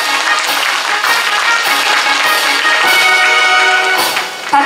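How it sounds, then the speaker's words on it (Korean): Loud, sustained applause from an audience honouring a poet receiving a regional literary award at a Jirisan literature festival ceremony, dense clapping throughout with a slight dip near the end. "박수로 축하해 주십시오."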